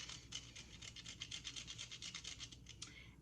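Fresh nutmeg rubbed over a small hand grater makes quick, rhythmic rasping strokes, close and fairly quiet, about a dozen scrapes in a row with no speech.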